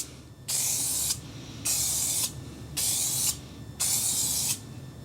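Aerosol spray can applying graphite coating to the trim of a 2008 Ford F-150 truck: four close, even hissing bursts of about half a second each, separated by brief quiet gaps.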